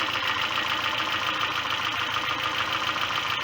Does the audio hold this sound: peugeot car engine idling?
yes